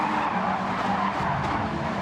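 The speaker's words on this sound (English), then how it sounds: "and the cars are going through" Race cars driving past on a track, a dense, continuous roar of engines and tire noise filling the whole stretch, loud and steady with no voices.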